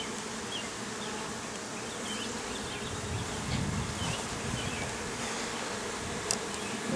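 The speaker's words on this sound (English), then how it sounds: "got bees on the other side there." Honey bees swarm around an open beehive during an outdoor hive inspection, a dense, continuous buzzing hum that stays steady and fairly close throughout.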